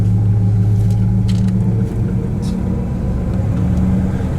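A 1967 Plymouth Satellite with a 318 V8 idles steadily in cold weather, a low continuous engine rumble with a brief dip partway through.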